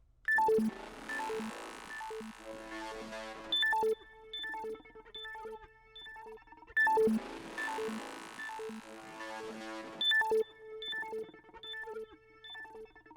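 An FL Studio trap beat melody switches between a chirping phone-like synth effect and a plucky arpeggiated synth, repeating in two clear bars with bright staccato notes and sharp attacks, no voices.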